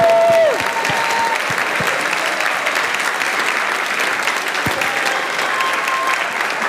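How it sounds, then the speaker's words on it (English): Audience at a high school band winter concert applauds volunteers from the concession stand, a steady, full round of clapping filling a large room for several seconds. "please stand up and let us clap for you"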